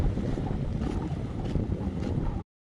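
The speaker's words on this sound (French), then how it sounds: "Je dis que le vent repart." Wind roars and buffets against the microphone in a dense, rushing wash, gusting slightly before cutting off abruptly into silence.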